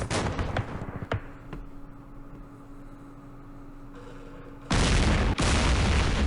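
Gunfire in the wargame Campaign Series Middle East: a few sharp shots and bursts near the start, a quieter lull with a low hum, then a loud sustained blast of fire that carries to the end.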